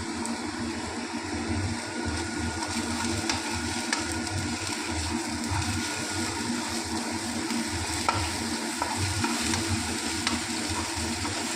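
Spices dry-roasting in an oil-free pan with curry leaves and coriander, a steady close crackle and scrape of stirring running the whole time with no voices.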